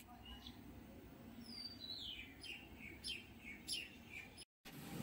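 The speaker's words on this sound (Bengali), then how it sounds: "পাখিটা ডাকছে সকালে।" A bird chirps in short, high repeated calls at a moderate distance over a quiet, low background hiss.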